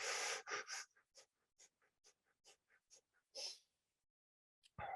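Rapid, forceful breaths are pushed out in a fire breathing exercise: a quick string of short, sharp puffs, close and clear, followed by a pause and a few more strong exhalations.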